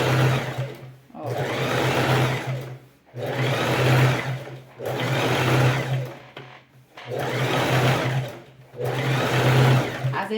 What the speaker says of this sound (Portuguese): eu rebato a costura, eu sempre venho ajeitando, não esticando, ajeitando o tecido